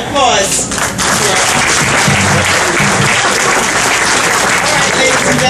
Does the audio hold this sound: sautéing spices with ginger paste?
no